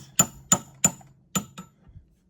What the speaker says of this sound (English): And I'm going to hammer it,